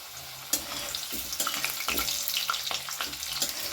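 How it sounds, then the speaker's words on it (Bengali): Potatoes frying in a pan for daliya, a close steady sizzle with a sharp knock at the start and irregular scraping stir strokes throughout. "আলুটা বেশ ভালো করে একটু ভেজে নিয়েছি"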